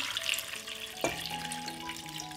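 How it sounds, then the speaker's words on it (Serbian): Cold water is poured into a cooking pot holding carrots, celery, peppercorns and a bay leaf, a steady close-up rush of water with rising ringing tones as the pot fills, and no talk. "Preliću sve sa hladnom vodom."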